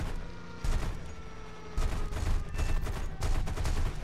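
Aircraft cannon in the War Thunder combat flight game, loud bursts of rapid automatic fire in several sustained strings with short pauses between, over a background engine roar.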